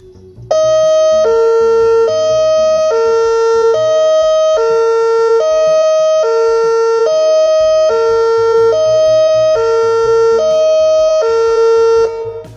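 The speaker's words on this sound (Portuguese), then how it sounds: "Dentro de instantes, a sirene será acionada para teste do sistema de alarme." A dam alarm siren sounds a test in Itabirito: a loud two-tone wail alternating evenly between high and low pitches, continuous for about twelve seconds, with no talking.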